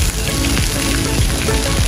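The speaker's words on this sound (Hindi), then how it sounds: "जी हाँ अगर आप ये समझ रहे हैं कि ये कैसी बारिश हो रही है तो मैं आपको ये बता दूं कि हमेशा ड्रामों में और फिल्मों में इसी तरह की बारिश की जाती है।" Artificial rain sprayed from pipes on a drama shoot set makes a dense, hissing patter that is close and constant, with no voices.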